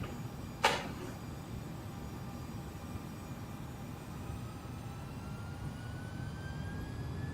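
Boeing 767-300ER jet taking off in the X-Plane 11 flight simulator, a steady broadband engine roar with rising whining tones building gradually, after a brief sharp click near the start.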